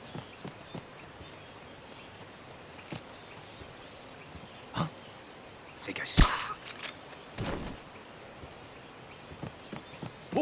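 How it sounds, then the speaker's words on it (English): Footsteps in the stealth game Metal Gear Solid: Peace Walker, a few soft scattered steps amid ambient game noise, with louder bursts of in-game sound partway through. "Huh? Footsteps!"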